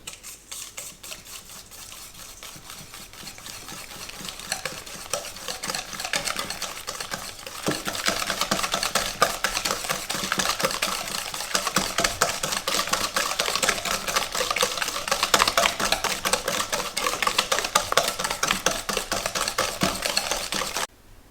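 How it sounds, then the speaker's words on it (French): Butter and sugar are mixed for a raspberry cake, a rapid, steady clatter of a utensil beating against the bowl that runs continuously and grows louder about a third of the way through, close up and with no voices. "Et ensuite, on met le sucre. Et on mélange."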